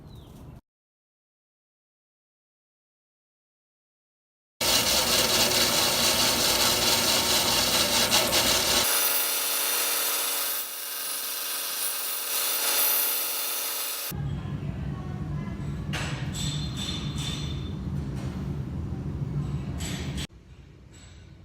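Wood being cut for a beehive build with a tool, giving loud, continuous rasping and grinding in long stretches separated by a silent pause and a shift in tone.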